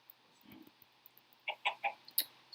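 Chickens in the Minecraft video game give a quick run of about four short, close clucks, one after another, with a faint scuffle of game sounds before them and no talking.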